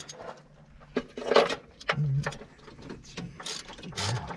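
A hand ratchet loosening and backing out loose spark plugs from a 1964 Corvair engine, giving fast close clicking runs in several short bursts with pauses between them.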